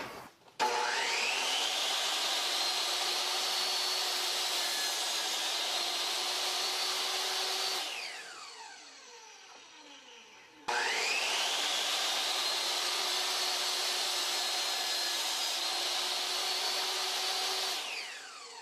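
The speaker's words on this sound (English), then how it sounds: "so I'm going to use the table saw" A table saw with a miter gauge cuts through wood twice, each pass a loud sustained whine that spins up, holds for several seconds and then coasts down.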